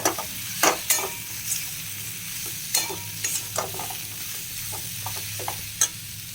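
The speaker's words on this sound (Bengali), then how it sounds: "একটু হালকা ক্যারি পাতাটা এর সঙ্গে ফ্রাই করে নেব" Curry leaves fry in hot oil for a potted gourd vegetable dish, giving a steady close sizzle broken by sharp spatter pops and scraping stirs, with no voices.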